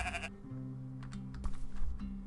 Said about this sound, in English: there's nothing to do here except pet a bunch of dang sheep.